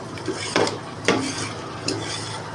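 Cooked ingredients for drumstick sambar being mashed in a metal pot, a few close scraping, squelching strokes with light knocks of the utensil against the pot over a low sizzle, no voices.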